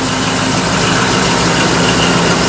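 Steady idle rumble and exhaust drone from a Dodge RAM 1500 pickup with its wheels and driveline turning after a rear differential repair, a continuous low engine hum with no talk.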